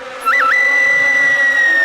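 Bees swarm around a hive that has been hit by thrown stones in a Tamil television drama, heard as a loud, close, sustained buzzing drone with a brief wavering rise near the start and no speech.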